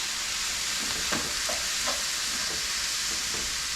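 Thick Mexican street corn dip being mixed with a small spatula, a steady scraping and stirring texture with a few soft knocks, close and continuous, no talk.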